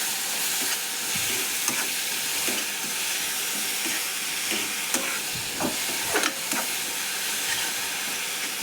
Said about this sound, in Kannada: ಕೈ ಬಿಡಲ್ದಂಗೆ ನಾವು ಇದನ್ನು ತಳಗ ಮೇಲೆ ಮಾಡ್ಕೋಬೇಕು ನೋಡ್ರಿ